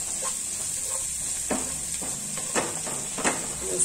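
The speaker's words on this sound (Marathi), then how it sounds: "आलं लसूण कोथिंबिरीची पेस्ट ही अर्धा चमचा घेतलेली आहे मी, ती आता आपण ह्यामध्ये खमंग परतून घेऊया।" Ginger, garlic and coriander paste fries in a pan with a steady bright sizzle, while a spoon stirs and scrapes through it in a few separate strokes. No one speaks.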